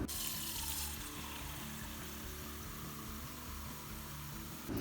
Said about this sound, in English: take your pan and fill it with water